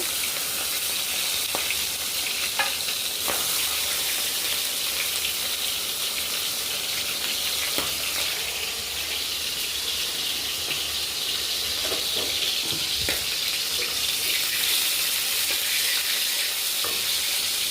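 Chicken marinated in salt, turmeric, mustard oil and a little lemon juice frying in a pan, giving a constant dense sizzle and hiss with occasional stirring clicks, close and steady throughout.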